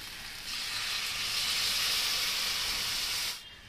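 Milk hits a hot pan of shukto vegetables fried with poppy seed paste, giving a steady loud hiss and sizzle that swells in after a moment, holds for about three seconds, then cuts off abruptly.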